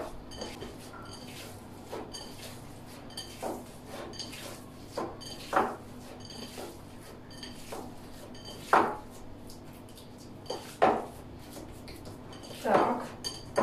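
Utensils scrape and clink in a dish as breakfast with paprika is stirred, a series of irregular close taps and knocks at moderate volume over a quiet kitchen background.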